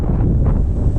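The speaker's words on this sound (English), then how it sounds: "Kind of windy out here." Strong, steady wind roars and buffets the microphone at a beach on Cape Zanpa the day after a typhoon, a constant low rumble with no pauses.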